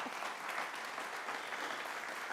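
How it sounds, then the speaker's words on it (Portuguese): Quiet, steady applause from an audience at a Portuguese-language program honoring Elia and Isenia, even clapping throughout, somewhat distant. "nós pedimos aplauso para senhora Elia e Sênia"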